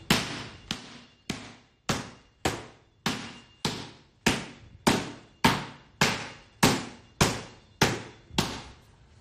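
Hands smacking a basketball to get a grip, about fourteen sharp slaps in a steady, even rhythm, close and crisp with short decays, no talking.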